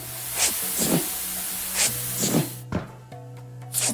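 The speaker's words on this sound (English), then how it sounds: "Steam around here somewhere." Steam leak in Ship Graveyard Simulator 2: repeated sharp hissing spurts, about six bursts at uneven intervals, close and fairly loud over a low steady hum, with no talking.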